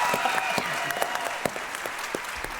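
Steady audience applause fills a PaleyFest LA 2024 panel hall, a dense wash of many hands clapping at moderate distance with a few louder individual claps standing out.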